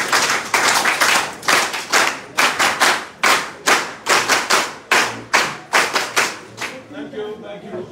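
A crowd at a political party leadership gathering performs a rhythmic group hand clap, loud synchronized bursts in a patterned beat of quick doubles and pauses, ending in murmuring.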